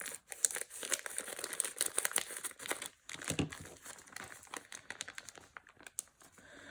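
Scissors snipping through a round vinyl crochet lace table topper, close and quiet, with a run of crinkly, crackling cuts and small pauses between snips.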